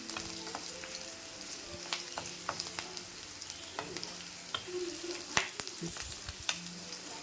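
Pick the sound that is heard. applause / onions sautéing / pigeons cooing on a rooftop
onions sautéing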